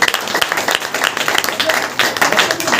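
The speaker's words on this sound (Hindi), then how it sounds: "ताली बजा करके" Church congregation at a Saturday power meeting clapping hands together, a dense, brisk, fairly loud rhythmic patter of many hands, with a voice talking over it.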